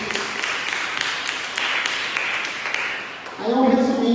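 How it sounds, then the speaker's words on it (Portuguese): A church congregation claps in a rhythmic, fairly steady series of hand claps at a cell-church teaching session, ending as a voice begins speaking near the close. "Dá uma salva de palmas para Jesus."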